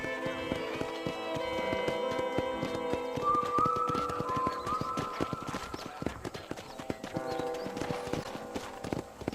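Rapid, regular hoof clip-clops of a horse in the video game Red Dead Redemption, over a continuous tonal music-like background, fairly close and busy throughout.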